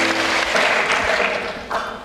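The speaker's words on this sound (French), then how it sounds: "je vous demande de les applaudir" Festival crowd at a film festival closing ceremony in La Roche-sur-Yon applauds the sponsors, dense steady clapping that thins slightly toward the end before a fresh burst.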